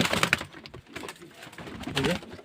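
Pigeons offered for sale in Beldanga coo close by in a couple of soft, throaty bursts, with faint movement noises between them.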